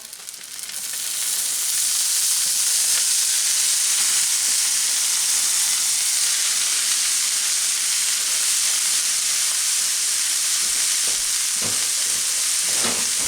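Cubed corned beef hits a hot frying pan and breaks into a loud, steady hissing sizzle that holds evenly, with a few clanks of utensils near the end and no talking.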